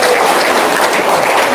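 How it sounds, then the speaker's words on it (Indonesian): Audience applause at a talk show, a dense steady wash of clapping that fills the whole moment at a constant level with no voices on top. "Tepuk tangan dong."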